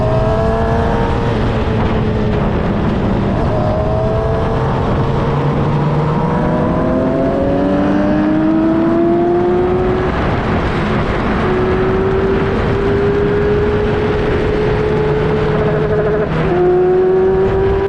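An F3 single-seater racing at Silverstone, on a 42-car grid against F1000 cars, is heard from onboard as its engine revs hard off the start. It screams up through the gears, loud and close, with rising pitch sweeps broken by quick upshifts.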